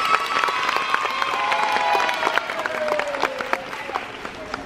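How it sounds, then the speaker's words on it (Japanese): Live audience at a Universal Studios Japan street show breaks into sustained applause with scattered sharp claps, fairly close and steady throughout, with some crowd murmur beneath. "自分自身に大きな拍手。"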